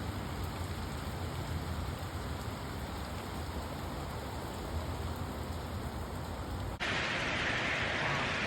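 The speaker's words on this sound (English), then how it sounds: "And it's a really pretty rainy day." Autumn rain falling in Seattle, a steady dense hiss of drops on surfaces, constant and moderately loud throughout with no voices, shifting brighter near the end.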